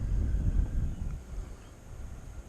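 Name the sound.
wind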